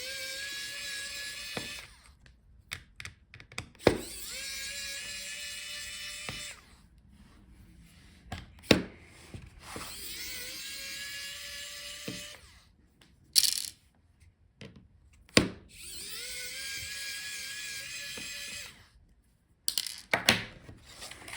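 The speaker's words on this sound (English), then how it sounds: "So unscrew the hinge screws." Hinge screws are being unscrewed on a Dell Precision 3490 laptop with a power screwdriver, which whirs in repeated bursts of a few seconds each. The bursts are separated by faint clicks and small metallic taps, and the whole sequence is quiet and close.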